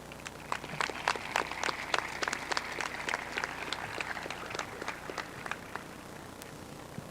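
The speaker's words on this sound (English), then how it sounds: "Can we please have one more wonderful round of applause for Sophia and Areli" A high school graduation audience claps in a large hall, individual sharp claps standing out over a thinner patter of applause that carries on steadily and fairly distant.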